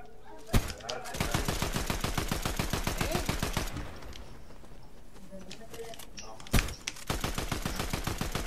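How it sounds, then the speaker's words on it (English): Rapid automatic gunfire in the video game Fortnite, several long bursts of fast repeated shots with brief pauses and a couple of sharp louder blasts, heard close and loud while players talk over it. "they're shooting, so they must be finding someone"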